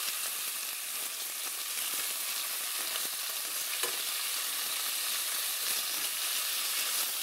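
Onion-spiced lamb chops frying in a pan just after being turned over, giving a loud, continuous hiss-like sizzle with no pause and no talking.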